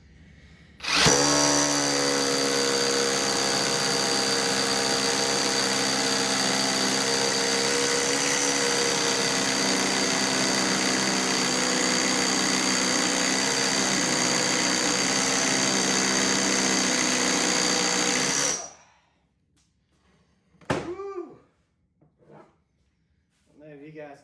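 A cheap Huepar cordless SDS hammer drill bores a hole, a loud close whine with rapid hammering that runs steadily for about eighteen seconds, then stops abruptly, followed by a few brief faint noises.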